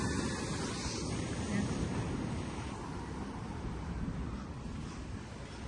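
Sea waves rolling in near moored boats on a shore, a constant broad wash of surf mixed with gusting wind buffeting the microphone, loud and unbroken throughout.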